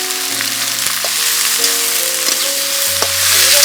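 Onion, green chili and ginger frying in oil for Bengali aloo dum, a loud continuous crackling sizzle close by, with a few stirring knocks and a faint tonal hum underneath.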